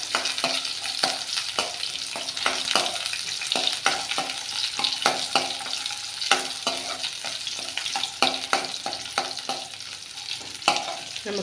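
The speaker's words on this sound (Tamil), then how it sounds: "இது நல்ல வெங்காயமும் பூண்டும் வதங்கிட்டுருக்கு" Large onion and garlic sauté in sesame oil with a steady crackling sizzle, punctuated by repeated scrapes and clacks of stirring at irregular intervals, close and moderately quiet, no talking.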